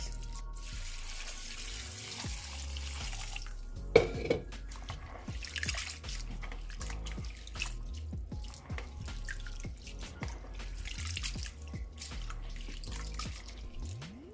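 Sea moss is rinsed and rubbed by hand under a running kitchen tap, a steady soft stream of water with drips and splashes nearby. The sound carries on throughout at a moderate level, with no speech.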